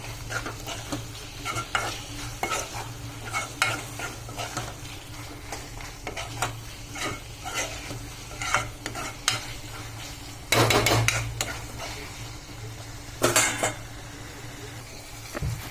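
A spoon stirs eggplant thokku around a pan, scraping and clinking in irregular strokes over a steady low sizzle, with a few louder, longer scrapes toward the end; no one speaks.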